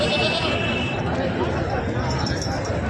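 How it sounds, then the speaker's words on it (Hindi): A heavy Boer goat bleats at a livestock market in Kalpi, Uttar Pradesh, a few wavering calls near the start over loud crowd chatter and market bustle, with talk running throughout. "ये देखिए बोर नस्ल का बकरा दिखा रहे हैं, काफ़ी हैवी है।"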